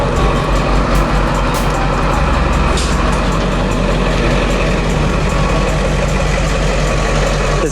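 A converted skoolie toy hauler school bus engine idles steadily, a loud, continuous low diesel rumble with a constant drone and faint rattles throughout, close up and uninterrupted by speech.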